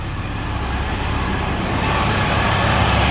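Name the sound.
supercharged engine running with exhaust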